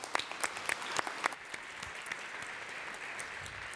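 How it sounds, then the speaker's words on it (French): Brief, light applause from a small audience at a forum on care practices, a few distinct claps at first blending into a soft, faint patter. "on va vous applaudir"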